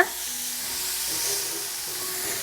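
Sliced onions sauté in a hot pan, giving a steady, close sizzle with a soft hissing spread and a faint stir or scrape partway through.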